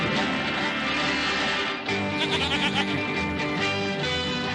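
A loud, drawn-out bleat like a goat's, wavering and continuing over several seconds with a brief break partway through.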